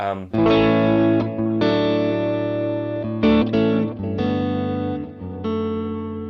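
An electric guitar, a Fender American Vintage '57 Stratocaster, plays sustained, ringing chords with a crisp, slightly overdriven, mid-focused tone, each chord struck and left to ring before the next.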